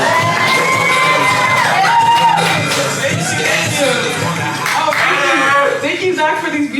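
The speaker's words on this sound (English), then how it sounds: "Give a very warm round of applause for Andy!" A comedy show audience applauds and cheers for a comedian, loud close clapping mixed with whoops, shouts and crowd voices that swell and hold throughout, with some talking in the mix.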